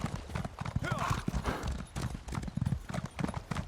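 Horse hooves clip-clop steadily as a mount trots through Markarth in the video game Elder Scrolls Online, with rhythmic footfalls at moderate volume under someone talking.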